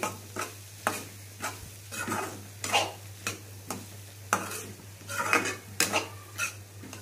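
A spoon scrapes and knocks rhythmically against a pan while spiced samosa filling sizzles softly, the strokes repeating about every half second over a steady low hum.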